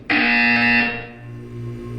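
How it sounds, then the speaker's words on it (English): A loud electronic buzzer from the Portal 2 video game sounds once, a steady harsh tone lasting most of a second before fading into a low background hum. "When you hear the buzzer, look up at the ceiling."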